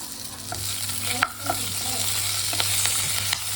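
Dried red chillies and curry leaves fry in hot oil for a tempering, a steady close sizzle with a low hum beneath and occasional utensil clinks and stirring scrapes.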